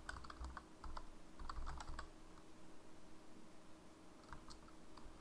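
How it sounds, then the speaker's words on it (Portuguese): Steady, quiet clatter of typing on a computer keyboard with a low background hum and no speech, the soft key clicks running continuously. "vocês vão estar digitando"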